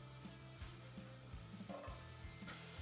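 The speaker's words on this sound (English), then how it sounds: "So we're going to fry these up probably for 5 to 7 minutes." Chopped onions frying in a pan for a Tennessee whiskey barbecue sauce, a faint steady sizzle with occasional soft stirring taps.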